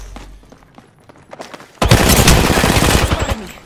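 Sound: gunfire from Apex Legends video game

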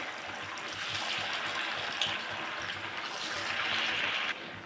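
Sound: frying vadi pieces in hot oil

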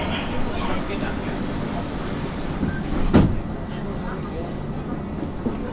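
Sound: maglev train departing station

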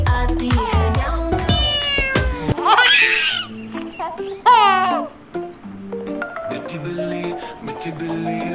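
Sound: cat meowing in a Hindi children's song

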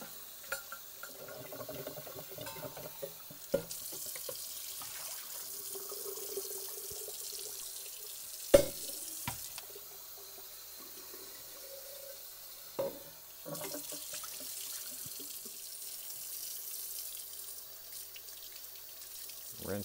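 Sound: water running from tap while rinsing coffee equipment

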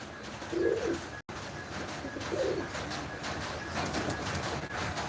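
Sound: pigeon cooing

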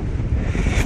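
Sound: wind blowing into microphone

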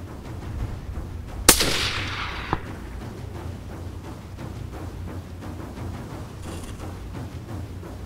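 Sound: rifle shot at golden wildebeest cow

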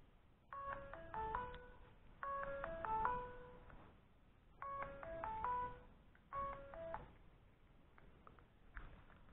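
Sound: phone ringing

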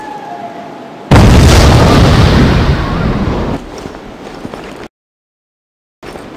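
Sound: explosive detonation in video game Devil's Third

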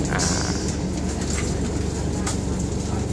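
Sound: special express passenger train no. 7 Bangkok–Chiang Mai stopping at signal

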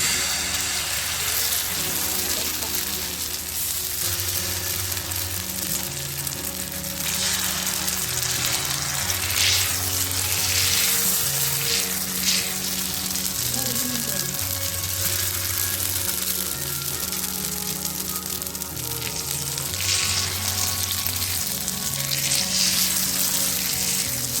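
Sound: potato batter frying on hot griddle (tawa)

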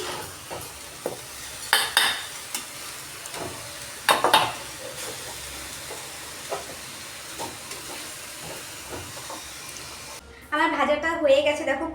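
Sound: frying kuli pitha filling in a pan on medium gas flame

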